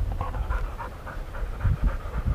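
A hunting dog on a wild boar hunt pants rapidly and rhythmically close by, the quick breaths steady and fairly soft against a low outdoor rumble.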